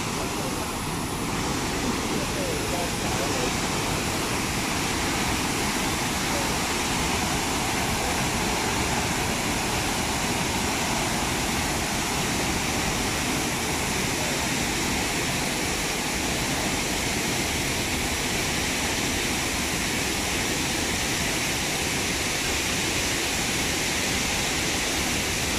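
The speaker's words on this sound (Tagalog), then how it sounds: "Shifen waterfalls." Shifen waterfall in Taiwan gives a loud, constant roar of heavy falling water that fills the whole stretch without a break, with no voices standing out.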